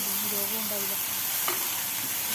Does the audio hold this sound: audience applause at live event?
no